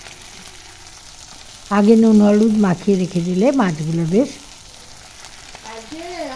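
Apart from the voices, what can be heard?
small fish frying in a pan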